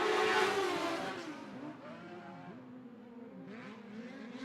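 Sprint cars and dwarf cars racing at Sunset Speedway Park, engines roaring loudly as a pack passes close, then fading into a fainter, higher drone of cars further around the track.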